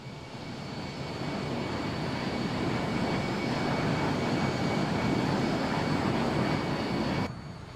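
A simulated Ansett Express airliner in Microsoft Flight Simulator 2024 roars past in a flyby, its engine noise swelling to a steady broad rumble with a thin high whine, then cutting off abruptly.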